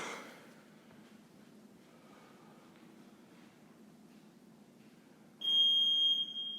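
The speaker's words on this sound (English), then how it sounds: "When you hear the buzzer, go ahead and start." A steady high-pitched electronic workout timer beep sounds near the end after a quiet stretch of faint background rustle, holding loud and continuous for about a second.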